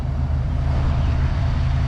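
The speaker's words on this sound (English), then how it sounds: "you can hear it's just got a nice little rumble to it." A relatively stock Ford Foxbody Mustang with a 5.0 V8 and lowering springs idles with a loud, steady low rumble close by, a deep even burble without revving or talk.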